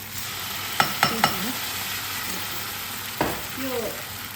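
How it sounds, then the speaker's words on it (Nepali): Tofu bara batter frying in a pan, a steady close sizzle throughout with a few clicks of a utensil against the pan and brief stirring sounds, no talk. "त्यसपछि यो ब्याटर हालिदिन्छु"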